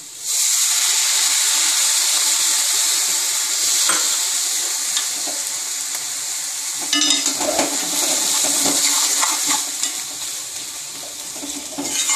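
A pan of onion and potato masala for masala dosa sizzles and hisses loudly and steadily, with a fresh burst of crackling partway through as water is sprinkled in and the mixture is stirred.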